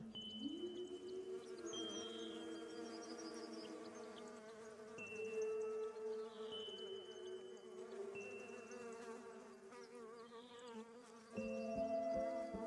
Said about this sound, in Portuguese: A primavera se deve a estas abelhas.